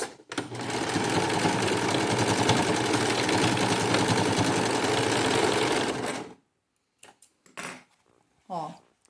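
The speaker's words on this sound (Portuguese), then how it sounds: "finalizo a costura com muitos retrocessos" Sewing machine sewing the seam of a piped cushion and finishing with backstitches, running loud and steady for about six seconds before stopping, followed by a few brief faint clicks and handling sounds.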